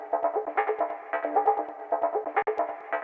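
A sample looped through Xfer Nerve's stretch mode, giving a continuous, steadily pulsing tonal loop that runs alone without talk, with one brief dropout near the end.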